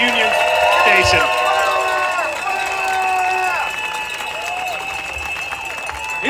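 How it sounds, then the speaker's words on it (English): A crowd at a protest at Washington DC's Union Station applauds and cheers loudly for volunteers, with whistles and raised voices ringing over a dense, sustained roar that eases slightly toward the end. "let's give a round of applause for all the Flare volunteers here at Union Station"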